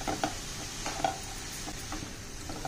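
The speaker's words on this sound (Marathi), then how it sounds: "हलवून घेऊया आणि 5 मिनिट आपण झाकण ठेवूया" Radish leaf and onion bhaji is stirred in a pan, with a few soft scrapes and clinks over a low background hiss, quiet and brief, no voices.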